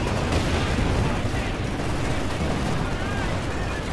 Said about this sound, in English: Conscripts, fire the Panzer Shrek!